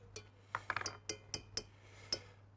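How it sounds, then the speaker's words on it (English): A utensil scrapes and taps against a glass jar while sticky treacle is cleared out of it, giving a string of small, sharp clinks and ticks spaced irregularly over a low background hum, close and fairly quiet. "Treacle's always super sticky. I'll try and get as much out of the glass as I can."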